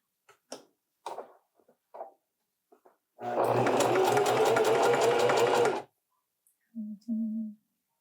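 A sewing machine runs a zigzag stitch on a T-shirt in one steady whirring burst of about two and a half seconds, close up, framed by small handling clicks before and after.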